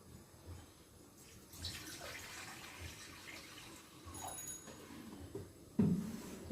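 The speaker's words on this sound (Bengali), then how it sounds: "আর একটু জল দেবো।" Water poured into a pot set on a lit gas stove beside cooking rice, a quiet trickling splash with a brief louder gush near the end.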